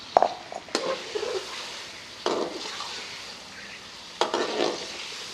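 Chicken and cauliflower fry in masala in a pan, with a soft steady sizzle broken by three sharp bursts of stirring and scraping, close by and with no voices.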